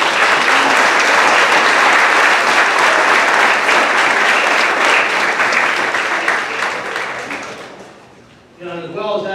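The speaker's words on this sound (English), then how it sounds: "Let's give them a round of applause" A banquet crowd applauds graduating seniors at a school sports banquet, a loud, sustained wash of clapping that fades and drops away near the end before a voice starts speaking.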